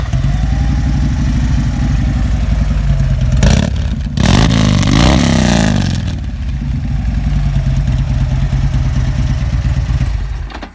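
Harley Davidson motorcycle with a double-wrap exhaust holding a deep, throbbing idle, then revving hard twice in a loud burst before settling back to a steady rumble, close by.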